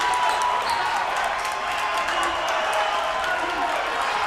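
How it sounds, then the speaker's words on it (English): Crowd at a high school boys' basketball tournament semifinal roaring and cheering after a made three-pointer, a steady loud wash of voices and applause filling the gym throughout. "George's crowd here is rocking him."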